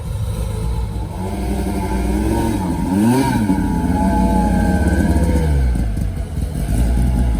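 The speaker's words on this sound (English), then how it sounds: "there's really a Lancia pulling in right now" A Lancia rally car engine rumbles nearby at a car show, revving and burbling with a rising, throaty pitch as it pulls in, steady and loud throughout.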